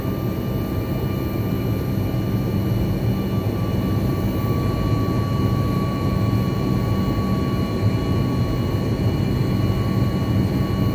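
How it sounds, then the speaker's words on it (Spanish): A Copa Airlines Boeing jet climbs out after takeoff, its engines giving a steady, loud, broadband roar that fills the cabin with a constant low rumble and a thin high whine, with no pauses throughout. "Despegamos."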